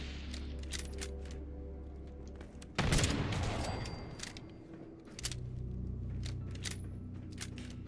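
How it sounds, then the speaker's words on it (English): Gunfire in the post-apocalyptic video game Fallout 76, with a loud burst of shots in the middle over steady game background sounds and scattered sharp clicks. "What are you shooting at, girlfriend?"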